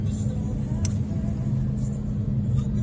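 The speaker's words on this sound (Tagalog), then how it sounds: "Traffic eh. Traffic guys." Steady low road rumble and traffic noise are heard from inside a car on a road trip toward Liloan, a constant close drone with a faint higher tick partway through.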